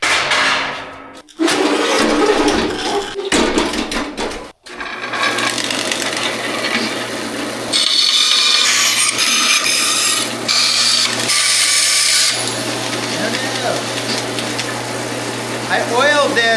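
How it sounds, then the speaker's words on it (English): Bandsaw slicing through a metal piece oiled for the cut, following a paper template, a steady grinding, rasping cut with brief pauses and a shrill high-pitched whine in the later stretch, loud and close, with some talk early on. "I oiled this because it helps the bandsaw cut"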